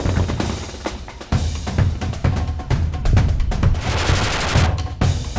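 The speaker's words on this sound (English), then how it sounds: "there was gunfire going off." Battlefield gunfire during an armored cavalry exercise: dense, loud bursts of automatic machine gun fire with overlapping shots, rapid irregular rhythm and no talking, sustained across the whole stretch.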